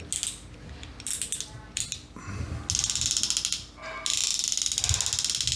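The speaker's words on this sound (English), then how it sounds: "Look at that, nice drag click." A custom drag clicker on a Daiwa Tatula 80/70 baitcasting reel spool ratchets in quick, crisp bursts, then settles into a steady, continuous run of close, loud clicks.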